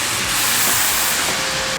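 Onions sauté in a pan with leftover hamburger grease and bits of meat, a loud, continuous close-up hiss and sizzle that cuts off abruptly at the end.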